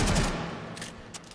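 A big fiery explosion in the Warframe video game, set off by slamming into the ground, hits with a loud low boom at the start and then fades, followed by a few faint, brief impact sounds.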